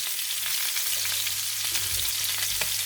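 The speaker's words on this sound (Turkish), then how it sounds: "Evet köftelerimizi böyle kızarttık" Continuous crackling sizzle of cevapcici meatballs frying in oil, steady and close, with faint stirring or shifting noises and no talking.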